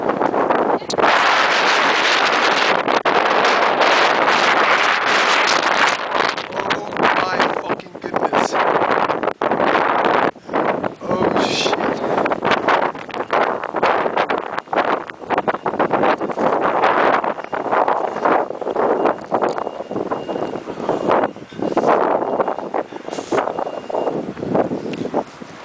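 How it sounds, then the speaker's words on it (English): Fierce blizzard wind driving snow along an Upper East Side street during the 2010 Boxing Day storm, a loud continuous roaring gust buffeting the microphone with surging bursts, and someone speaking briefly. "Blowing snow."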